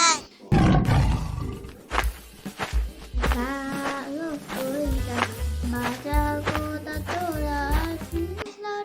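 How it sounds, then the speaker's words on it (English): A tiger roar in a children's phonics song for the letter T, a loud growling burst near the start over a bright musical backing with sung melody continuing throughout. "T for tiger."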